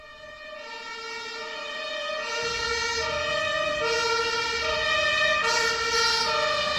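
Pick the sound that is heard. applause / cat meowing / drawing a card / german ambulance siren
german ambulance siren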